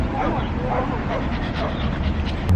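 At a dog park, a dog gives short yips and whimpering barks at moderate distance while people talk nearby, the dog sounds scattered and intermittent under the voices.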